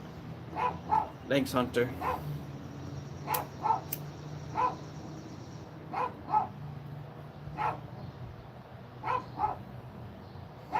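A young pet dog behind a backyard fence gives a series of short yips and barks at people, irregular and moderately close, with a brief spoken remark nearby.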